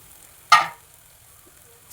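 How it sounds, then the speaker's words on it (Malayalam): Chicken roast cooking Kerala style in a pan, a single loud sizzle as the lid comes off and the chicken is stirred, fading quickly, then a second burst of sizzling begins at the end. "5 മിനിറ്റ് കഴിഞ്ഞ് ഞാൻ ഒന്നും കൂടെ തുറന്ന് ഇളക്കിയിടുന്നുണ്ട്"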